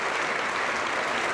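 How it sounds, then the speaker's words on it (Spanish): Applause fills the Spanish parliament in full session welcoming Argentine president Raúl Alfonsín, a dense, steady wash of many hands clapping with no talk over it. "recibe con este aplauso"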